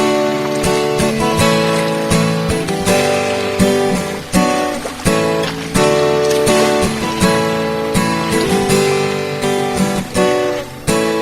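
Acoustic guitar strums the chorus of a song in a busy, driving rhythm of dense chord hits, close and loud, with no voices.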